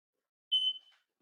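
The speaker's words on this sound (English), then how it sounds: "Now's a good time to hit your fire alarm." Smoke alarm going off while bazlama flatbread crisps in a cast-iron pan: a single short, high electronic beep, moderately loud against near silence.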